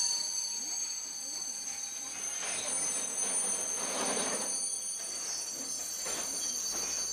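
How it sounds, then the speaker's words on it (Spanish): A passenger train arriving from Stockholm rolls past in the Swedish north near Kiruna, a steady rumble with high metallic wheel squeal and whining tones, heard moderately close with no clear talk. "El tren de pasajeros que llega por la mañana procede de Estocolmo."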